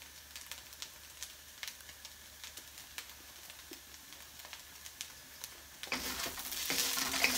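Vegan four-bean chilli cooks in a pan with a soft, steady sizzle and scattered light stirring clicks, growing louder and busier near the end.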